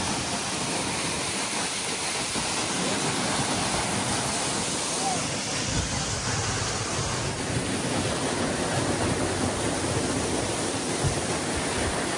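Cold mountain water in a stream near Chitkul village rushes steadily and loudly in a constant broadband roar, with no break or talking over it.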